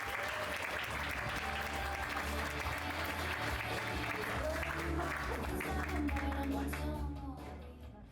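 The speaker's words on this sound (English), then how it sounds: "I want you to give a huge round of applause for our next performer." An audience at a comedy storytelling show gives a dense, sustained round of applause with some crowd noise that fades toward the end, while a voice talks over it.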